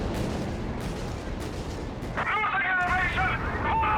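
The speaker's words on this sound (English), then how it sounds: "Crusader anti-aircraft tank is shooting down some of the aircraft" A Crusader anti-aircraft tank fires at aircraft in a Company of Heroes 3 match: rapid booming gunfire and distant blasts rumble beneath continuous talk.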